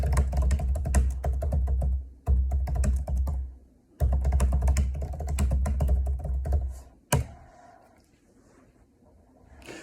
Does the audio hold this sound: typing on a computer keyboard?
yes